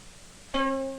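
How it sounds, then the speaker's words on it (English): A single plucked string rings out clearly, a bright twang that sustains and slowly fades, with no talking. "if I take a musical instrument and pluck one of its strings"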